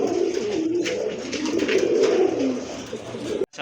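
A pigeon for sale at a bird market coos steadily and loudly up close, its throaty warbling continuous over a low background murmur.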